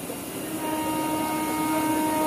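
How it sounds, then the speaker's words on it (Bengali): A Panskura–Howrah local train pulls out of the platform at Panskura station, a continuous rumbling drone with steady tonal hums and a faint hiss building gradually, no voices. "আমাদের ট্রেন ছেড়ে দিয়েছে।"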